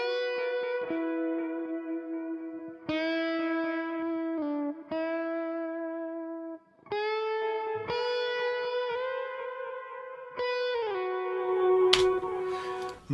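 Sustained tonal musical phrases, likely synth or instrument notes, ring out with a long, smooth plate-style reverb tail from a Valhalla DSP Plate plugin. The notes come in several loud sections with brief gaps, and no talk is heard.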